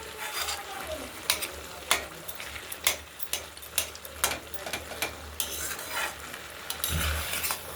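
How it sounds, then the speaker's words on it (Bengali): A spinach curry with five mixed vegetables and fried lentil dumplings is stirred in a sizzling pan, with repeated scraping strokes of a spoon at an irregular rhythm over a steady low fry, and no talking. "নেড়ে চেড়ে একটু মাখো মাখো না করলে ভালো লাগবে না একটু নেড়ে চেড়ে মাখো মাখো করছে"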